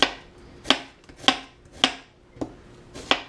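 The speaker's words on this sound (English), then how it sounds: "And then you just cut the onion like this." Onion cut with a knife on a cutting board for pepper steak: six crisp, evenly spaced chops about half a second apart, each a sharp close knock with nothing else heard.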